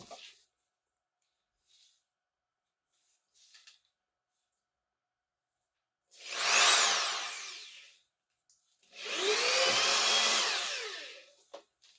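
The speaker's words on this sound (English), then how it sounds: "I use the smallest drill bit in there to drill through" An electric drill with a small bit whines through a Demonia Creeper shoe sole in two sustained bursts, close and loud, after a mostly quiet stretch with faint handling noises.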